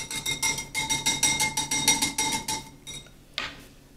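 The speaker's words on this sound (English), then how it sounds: "I'm going to give it a real good whisking just to make sure it's all blended together nicely." A whisk beats thickened sweet and sour sauce in a steady run of quick, bright clinks against the container, about four strokes a second, then trails off with a softer scrape near the end.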